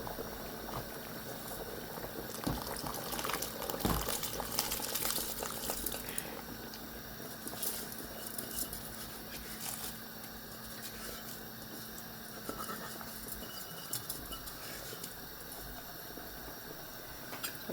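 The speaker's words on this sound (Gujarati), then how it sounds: "ચાલો હવે પાણી ઉકળી ગયું." Water boiling steadily in a pot while prawn biryani is prepared, a continuous bubbling hiss with occasional clinks and small knocks, fairly close and without speech.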